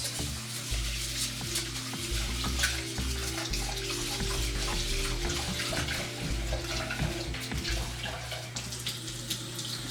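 Steady running tap water splashes and gurgles continuously over rice being rinsed, close by, with a constant low hum underneath.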